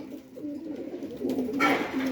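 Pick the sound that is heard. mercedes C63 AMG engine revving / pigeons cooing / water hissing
pigeons cooing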